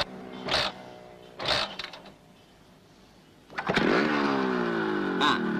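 A motorcycle engine is started and revved in short bursts: two brief roars with gaps of quiet idle, then a longer, steady louder run with a final rise, heard close up.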